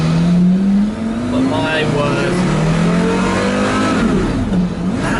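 Porsche Carrera GT engine revving and accelerating on the road, its rising, sweeping pitch loud and close, with a person speaking briefly over it.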